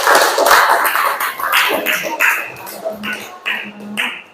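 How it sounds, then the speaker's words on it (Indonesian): An audience in a classroom-style teaching session claps together, a loud, uneven patter of many hands swelling and dipping in bursts across the whole stretch, with a faint voice murmuring underneath. "Tepuk tangan dulu untuk kita semua."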